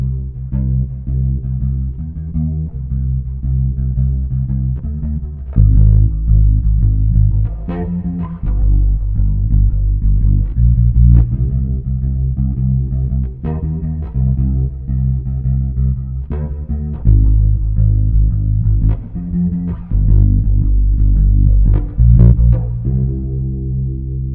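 Electric bass line played through a Yamaha FX500B with chorus and room-style reverb: loud, steady, shimmering low notes in a driving rhythm, heard alone without voices.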